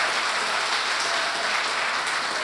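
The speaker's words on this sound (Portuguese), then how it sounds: "aplaude bem forte o Rei dos Reis" A church congregation claps loudly during a sermon, producing a dense, steady roar of applause that lasts the whole short stretch.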